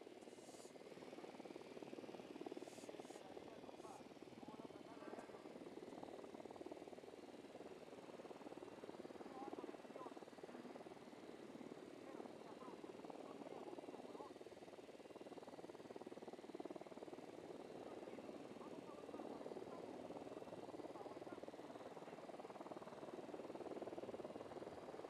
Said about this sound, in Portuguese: Helicóptero da unidade, em patrulha.